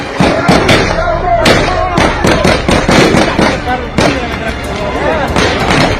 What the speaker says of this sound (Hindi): काबुल एयरपोर्ट आज शाम एक बार फिर गोलियों की आवाज से थर्रा उठा